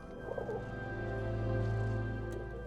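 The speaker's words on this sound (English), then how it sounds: "by manufacturing and designing a palette of bird vocals that would emote what we were seeing on screen" Designed bird vocal sound effects for a film, soft cooing, dove-like calls with warbling tones over a sustained low tonal bed, fairly quiet and close, no speech.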